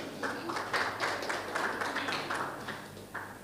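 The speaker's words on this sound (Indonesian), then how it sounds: "Tepuk tangan buat Tuhan Yesus." Congregation applauding during a church worship service, a steady wash of many hands clapping throughout at moderate level.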